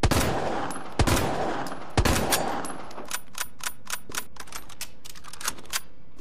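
A scoped magnum fires in Resident Evil 2 Remake, with two loud close shots early on, followed by a string of sharp, lighter clicks and taps at an uneven pace.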